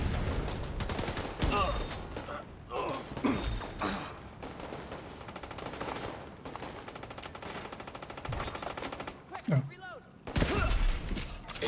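Video game gunfire, with several rapid automatic bursts separated by short gaps and mechanical clicks and clatter between them, loud and close, with voices talking in places.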